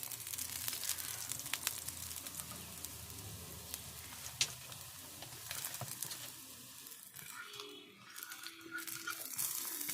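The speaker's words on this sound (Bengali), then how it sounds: "তো ঘুরিয়ে ফিরিয়ে আবারও ভেজে নেব।" Cabbage snack (badhakopi hath chapri) frying in oil in a pan, a steady close sizzle and crackle with scattered sharper pops, briefly easing near the end before picking up again.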